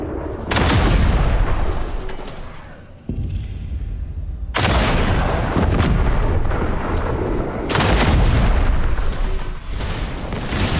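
Loud, sustained bursts of gunfire and booming shots in the Duet Night Abyss action game, heavy volleys broken by short lulls and then resuming, close and dominant throughout.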